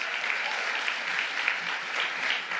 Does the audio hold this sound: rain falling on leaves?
no